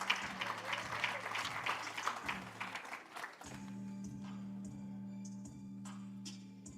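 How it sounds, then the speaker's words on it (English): Applause from an audience at the M.C.S.D. Sports Awards 2025 ceremony, a moderate burst of clapping over a steady low electrical hum, fading as a speaker's voice comes in. "Clap it up for Russell Scott and the Jordan Red Jackets"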